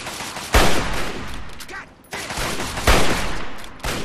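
Two sharp, loud hunting rifle shots in Fallout 3, about two seconds apart, each with a booming tail.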